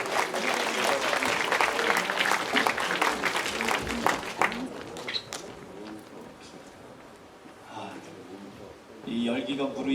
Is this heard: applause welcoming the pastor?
yes